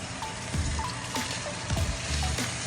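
Butter sizzling in a pan with fondant potatoes, a soft continuous crackle with scattered pops, fairly quiet throughout.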